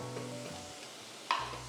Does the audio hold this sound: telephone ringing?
no